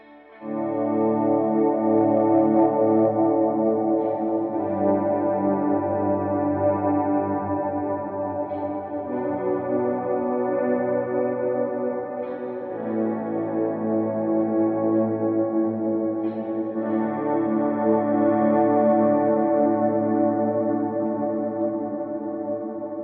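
Electric guitar through a Line 6 HX Stomp reverb set to a 12-second decay, sustained chords ringing in long, washy tails that blend into each other, changing every few seconds, no voice.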